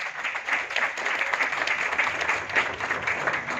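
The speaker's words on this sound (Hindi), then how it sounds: "तो जरूर तालियां इनके लिए।" Audience applause at a multi-level marketing leaders' meeting in Delhi, a steady wash of clapping from a crowd holding at an even level for a few seconds with no talk over it.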